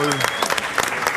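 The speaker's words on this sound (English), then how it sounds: "Give her a big round of applause." Audience applause at a supervisor training session, a dense burst of many hands clapping steadily while a voice speaks over the start.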